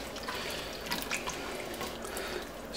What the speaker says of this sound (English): See that nice rich broth coming in there.